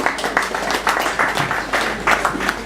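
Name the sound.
applause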